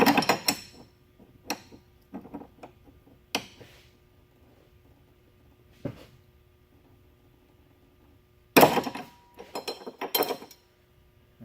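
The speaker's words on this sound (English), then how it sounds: "put the ratchet on left loosey so you can hold it the opposite way you're turning" A ratchet wrench clicks in short bursts while tightening a strut bar bolt on a Chevrolet Cruze, with sharp metallic clinks and quiet gaps between the turns.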